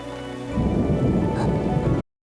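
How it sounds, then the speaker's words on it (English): Thunder rumbles with steady heavy rain in an animated umbrella scene, starting quietly then swelling into a loud, continuous downpour with a low rumble before it cuts off abruptly. "In the movie, we hear the thunder sound at these points."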